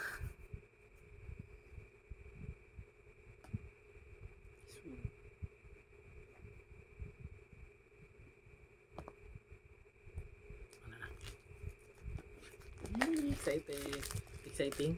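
Phone packaging crinkles and rustles during an unboxing, opened with scissors, in scattered soft crackles that grow louder and busier toward the end, with faint talk in the background.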